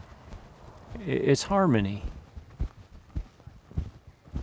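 Hooves of a vaquero-style bridle horse on an Oregon ranch clip-clop in a loose, steady rhythm. The hoofbeats sit partly under a man's brief spoken line and carry on alone afterward.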